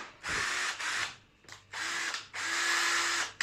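A Makita 8280D cordless drill runs on its battery in three steady whirring bursts separated by brief stops, loud and close with no talking.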